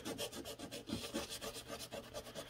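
Sandpaper rubs back and forth over the sharp edge of a scored, pressed-on McCulloch piston, a rhythmic rasping scrape repeating about five times a second, close up and faint, with no talk.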